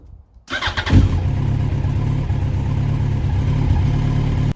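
A 2004 Yamaha R1 motorcycle engine cranks briefly and catches, then settles into a steady, loud, close idle with no talk over it.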